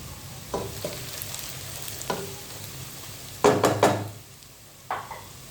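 Onions frying in a pot give a soft background sizzle, broken by several sharp scrapes and clinks of a spoon stirring against the metal, with a brief cluster of louder scraping near the middle.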